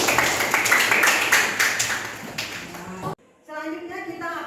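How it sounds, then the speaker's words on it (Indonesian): Students in a classroom break into a burst of applause, dense overlapping hand claps lasting about three seconds before cutting off, then a voice continues talking. "Iya, tepuk tangan."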